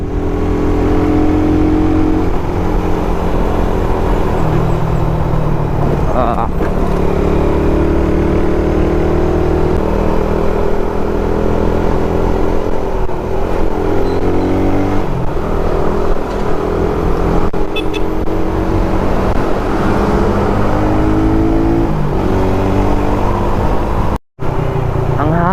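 A Suzuki Raider 150 motorcycle rides along a road: a loud, steady engine drone rises and falls through gear changes, with wind rush, for the whole stretch.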